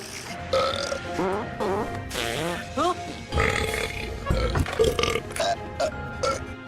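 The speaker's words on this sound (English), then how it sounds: "also a lot of burps and farts, because of course kids must find this funny" Exaggerated cartoon burps from a Ben 10 animated series, several loud gurgling belches in quick succession mixed with voices and other cartoon sound effects.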